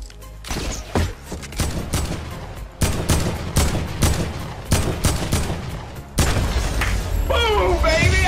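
Rapid bursts of gunfire and booming rocket blasts from a Fortnite match, loud and dense throughout, with a heavier blast near the end followed by a whistling, warbling effect.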